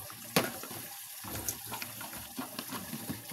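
Water runs from a tap into a sink while fish is washed for cooking, a soft steady splash with small clinks and handling knocks close by.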